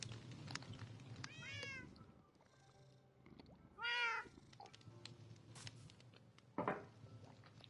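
Minecraft cat meows: two or three distinct mewing calls spaced a few seconds apart, moderately close, among soft footsteps and quiet game ambience.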